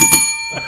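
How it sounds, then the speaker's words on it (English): A single bell is rung, its bright ringing tone sounding twice in quick succession close by and sustaining between strikes, with no talking. "Ring that bell, honey."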